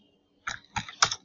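Three quick separate key clicks on a computer keyboard while a password is entered, close and crisp against near silence, with no talking.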